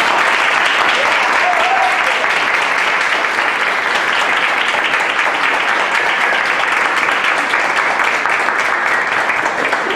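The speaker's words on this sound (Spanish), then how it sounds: "Le damos un aplauso primero." Sustained, dense audience applause fills a hall at a tribute event for painter and muralist Calixto Saucedo, steady and loud for the full ten seconds with no voices above it.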